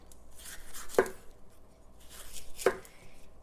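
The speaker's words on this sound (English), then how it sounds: "chopping up the bell pepper here" Two sharp knife chops through a bell pepper on a cutting board, spaced about a second and a half apart, close up over quiet room noise.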